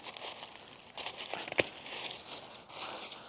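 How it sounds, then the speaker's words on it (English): Crinkly snipping and crackling as a damaged cane is cut back during a spring garden cleanup, with a sharp crunch near the middle of a short, close burst of brittle rustling. "so we'll cut that one back too."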